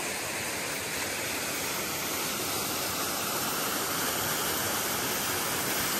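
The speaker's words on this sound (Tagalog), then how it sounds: "Para makuhanan ang magandang falls." Kegon Falls in Chichibu, Saitama, pours down in summer as a steady, loud broadband roar of falling water. It stays constant and close, with no voices.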